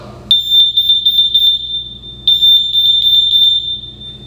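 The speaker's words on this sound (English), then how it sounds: "you can push the button and set off the alarm on the bear" A child-safety bear toy's alarm goes off in two long bursts of a loud, piercing high-pitched electronic tone, with a brief pause between them.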